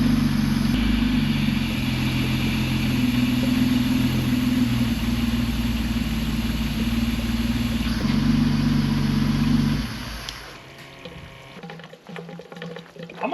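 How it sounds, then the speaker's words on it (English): A Mercedes SL Pagoda engine, revived after sitting for 40 years and missing its last muffler, idles steadily with a low, even rumble for about ten seconds before it cuts off, leaving quieter scattered sounds. "If it had that last muffler, it would be dead quiet. The engine's super quiet."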